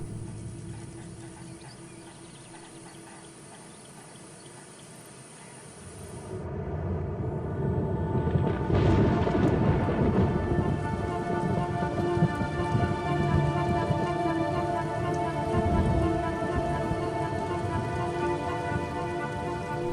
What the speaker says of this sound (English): the rains continue to fall in a ceaseless torrent